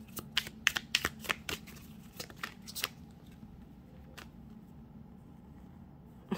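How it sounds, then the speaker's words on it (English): A deck of tarot cards being shuffled, a quick burst of crisp riffling clicks at the start, then scattered softer card snaps, close and fairly quiet with no talking. "I think I need to shuffle this deck a little bit better"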